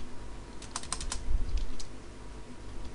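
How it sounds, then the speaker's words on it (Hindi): A run of quick keyboard clicks, several keystrokes clustered near the start and middle over a steady low hum, typing Java code on a computer keyboard, with no voice. "और फिर से टाइप करते हैं"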